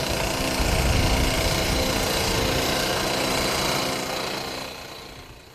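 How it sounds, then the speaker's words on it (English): Loud, continuous mechanical racket close by, heavy-duty construction hammering with dense engine-like rumble, fading out toward the end. "Got some seriously heavy-duty hammering going on."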